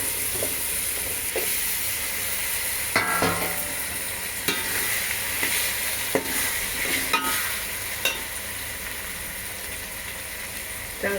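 Onion, mint, coriander and tomato sizzle as they are sautéed for vegetable rice, a constant hissing fry broken by the scrape and clatter of stirring, with no talking.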